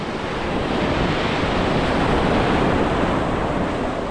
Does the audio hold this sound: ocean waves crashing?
yes